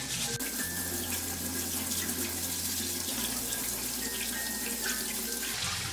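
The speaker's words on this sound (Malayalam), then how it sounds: "ഇതിൻ്റെ ഓരോ വിടവിലും ബ്രഷ് കൊണ്ട് നല്ലതുപോലെ വാഷ് ചെയ്യണം." Running water from a tap pours steadily into a sink while a crab is scrubbed with a brush, the flow close and continuous with no talking.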